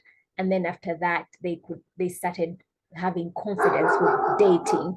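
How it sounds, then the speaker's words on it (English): Dogs bark and whimper indoors in a burst near the end, loud and overlapping a person who is talking. "sorry about the dogs"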